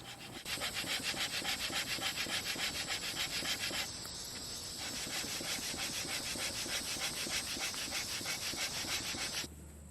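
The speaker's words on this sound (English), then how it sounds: "we move the spear up and down that gouge that we created or that run, creating friction and eventually hardening that spear tip" A wooden spear shaft is rubbed back and forth in a groove, fire-plow style, to harden its tip: a steady, loud rhythmic scraping friction of wood on wood, continuing for about ten seconds with a brief rougher stretch partway through.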